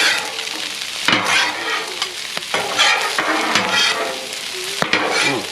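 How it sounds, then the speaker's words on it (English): Rice fries on a flat griddle for a salmon teriyaki stir-fry, giving a steady close sizzle broken by repeated scraping and stirring strokes of a spatula across the hot metal. "That rice is fried up beautifully"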